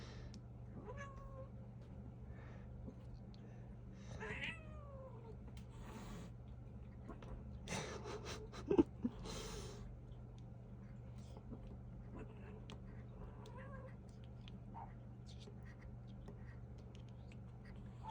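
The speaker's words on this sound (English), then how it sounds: "my cats started playing in the background, so that is what you're hearing" Cats meowing and scuffling faintly while playing in the background of a quiet room, with a few brief, soft calls scattered over a steady low hum.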